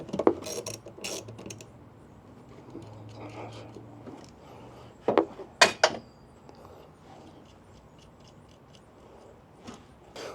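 A 10 mm wrench loosening the negative terminal on a Chevy battery, with a few close metallic ratchet clicks and scraping contacts amid quiet handling noise and short bursts of movement.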